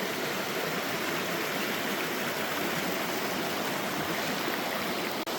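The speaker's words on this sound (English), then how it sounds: "So right by our campsite, we got this awesome creek." A creek in Arapaho National Forest rushes steadily beside a campsite, a dense, continuous wash of flowing water close by, unbroken for the whole stretch apart from a brief dip near the end.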